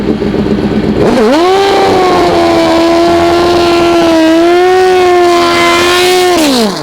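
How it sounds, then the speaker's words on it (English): A Prostar drag racing motorcycle launches hard off the line, its engine already loud and then rising into a sustained high-pitched wail that holds steady for several seconds before dropping away. "Good hard launch from Paul."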